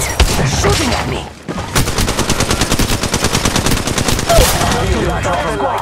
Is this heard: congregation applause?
no